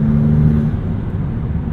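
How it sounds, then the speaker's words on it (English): A 2023 Maserati MC20's turbocharged engine drones loudly and steadily from inside the car while driving, its pitch easing slightly partway through. "there's lots of turbocharged noises here"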